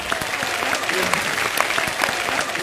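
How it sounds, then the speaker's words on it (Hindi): Loud, dense applause fills a studio audience welcoming a contestant onto a comedy game show, steady and sustained across the whole stretch. "जोरदार तालियों के साथ स्वागत कीजिए बोका प्रसाद जी का"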